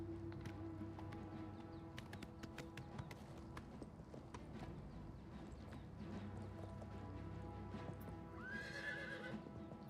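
A horse in the video game Oblivion Remastered clip-clops steadily over quiet ambient game sound. A whinny rises near the end.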